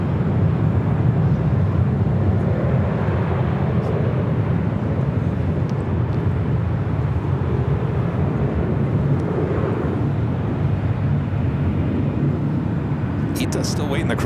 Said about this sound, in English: The flight that was just taken off, Delta, flight heading to New Orleans, the 737-800